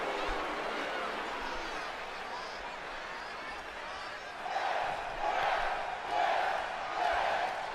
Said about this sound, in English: The crowd already chanting for both men.